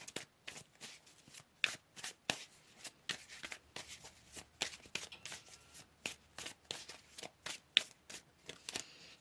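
Tarot cards shuffled by hand in quick repeated riffles, a crisp flurry of close, fairly quiet snaps and rustles in a steady rhythm, with no talking.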